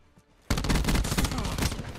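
A SAUG 9mm submachine gun in the Black Ops 4 game opens up after a short quiet start, firing a loud, dense, continuous automatic burst of rapid rattling shots to the end.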